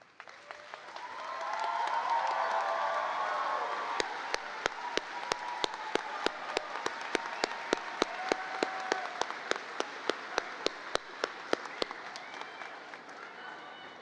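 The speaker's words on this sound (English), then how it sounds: "I'm going to ask them to stand now so that we can give them a round of applause." A graduation ceremony audience claps for the standing graduates. The dense applause swells quickly, holds steady for several seconds, then slowly thins, with sharp individual claps standing out near the end.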